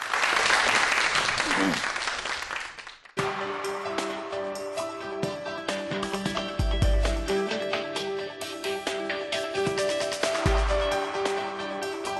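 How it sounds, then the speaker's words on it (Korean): A studio audience gives a warm round of applause to welcome a guest lecturer onto a science-channel talk stage, dense clapping at first, then a brief lull and renewed clapping with music playing underneath. "여러분들 큰 박수로 맞이해 주시면 고맙겠습니다"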